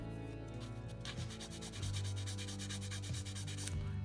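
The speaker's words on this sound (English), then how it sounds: "just to get in there and do a little bit of sanding" Steady rough rasping of coarse sanding on a Hawker Hurricane plastic model kit, a close, continuous scratchy rub that grows slightly louder partway through, with no voices.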